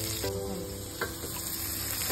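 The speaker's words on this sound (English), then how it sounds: "We cook the fish for 5 minutes." Fish sizzling steadily in a hot frying pan, a continuous close crackle with a couple of brief stirring or shifting sounds.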